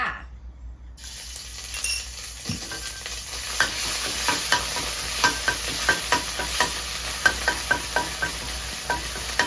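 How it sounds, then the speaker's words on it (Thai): Curry paste sizzles in hot oil in a pan after a brief silence, with a steady frying hiss and regular clinks of a utensil stirring. "น้ำมันเดือดแล้วใส่พริกแกงลงไปค่ะ"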